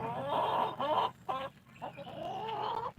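Backyard chickens clucking nearby in a busy, overlapping chorus of short calls, fairly loud, with a brief quieter gap before they start up again.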